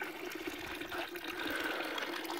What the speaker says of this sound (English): coming down through down the steps, is the holy water, the water from the spring